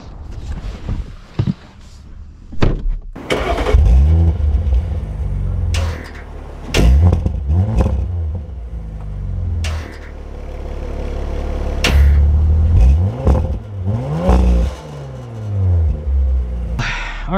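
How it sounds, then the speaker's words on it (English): A 2025 Audi RS5 starts and drives off, with door thuds and clunks before a deep engine rumble that swells and falls through revs, loud and close inside the car. "Anyways, let's drive it."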